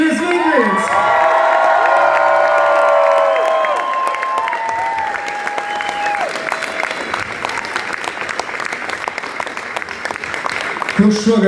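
A concert crowd applauds and cheers for a DJ, loud sustained clapping with whoops that tapers slightly before picking up again near the end.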